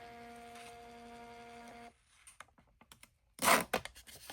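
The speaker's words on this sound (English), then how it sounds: "I am printing it out." A home printer runs with a steady whirring hum, then stops and gives a series of small clicks and taps before a loud rushing burst as the page feeds out. Another short click follows.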